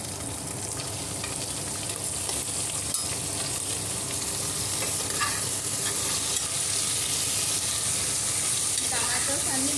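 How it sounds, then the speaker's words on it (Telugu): Tomatoes tossed into a hot pan of sambar base, a dense continuous sizzle and frying crackle with scraping stirring strokes throughout, close and steady, no talk. "ఇప్పుడు టమాటోస్ వేసుకుంటున్నామండి."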